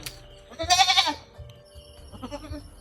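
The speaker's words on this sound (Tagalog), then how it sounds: "Bin, ilipat mo muna yung kambing, Bin, doon sa kabila, Bin, oh." Goat bleating close by, one loud quavering bleat followed by a softer second call, with some low background noise.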